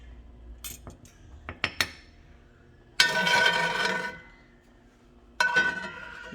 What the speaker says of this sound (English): now I'm just getting a spoon and scooping it out